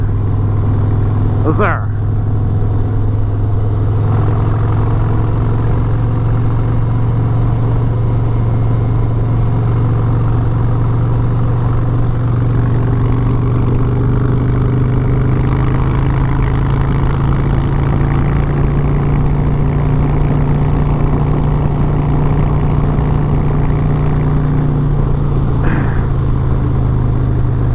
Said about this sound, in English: Oh, there's a Street Glide out and about.